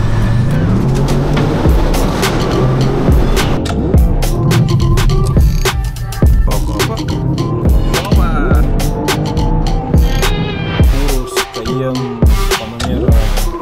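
An Audi RS6 C7 accelerates hard on wet asphalt. Its loud engine roars and rises through repeated revving sweeps for the full length, with tyre and road noise close underneath.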